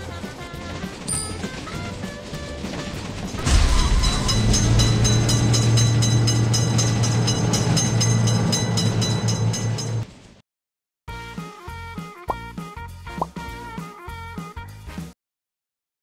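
A train in a railroad crossing simulator game rumbles loudly past with rhythmic clicking of wheels, then cuts out briefly before a series of sharp rhythmic game clicks and bell-like tones.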